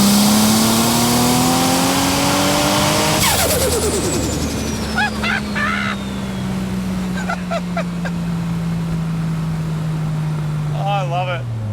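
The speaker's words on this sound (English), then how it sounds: "I'm gonna go make some more mad turbo noises. Third gear pull." Turbocharged GT-R engine in a Datsun 240Z roaring through a third gear pull, rising loudly, then dropping off into a long whistling turbo spool-down with chirps and flutters close by.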